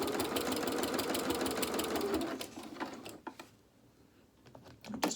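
A sewing machine stitches through layered fabric to tack it down, running as a fast steady mechanical chatter for about three seconds before stopping, followed by a few faint clicks and handling noises, close and moderately quiet.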